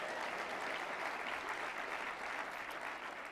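An audience at a 2015 investment summit speech gives steady, dense applause, heard at moderate distance as a continuous wash of clapping.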